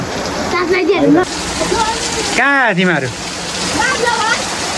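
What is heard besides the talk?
rain falling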